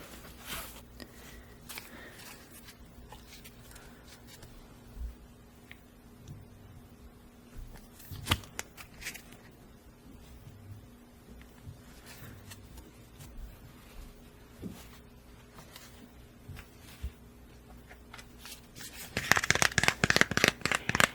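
An Etteilla-style tarot deck is handled quietly through soft card rustles, ending in a closer, louder burst of rapid shuffling.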